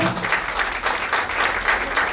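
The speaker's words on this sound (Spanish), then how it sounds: "También un aplauso" Brief, moderate clapping from an audience at a panel discussion on women in native communities, a short steady burst without speech.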